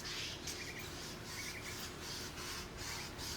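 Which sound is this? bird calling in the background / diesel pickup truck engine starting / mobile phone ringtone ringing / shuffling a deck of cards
bird calling in the background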